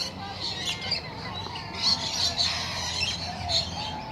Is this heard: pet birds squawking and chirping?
yes